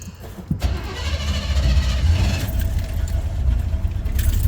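A GMC C25 square body truck engine cranks and catches, settling into a steady loud running rumble with a faint jingle of keys near the start.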